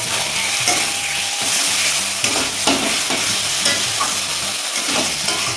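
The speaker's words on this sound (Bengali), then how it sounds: "চিকেনটা অনেকটা কষানো হয়ে গেছে" Free-range chicken being stir-fried with spices in a pan gives a loud, dense sizzle with repeated scraping and stirring strokes, close up and continuous, with no talk.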